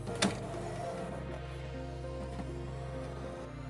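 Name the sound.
inkjet printer running self-maintenance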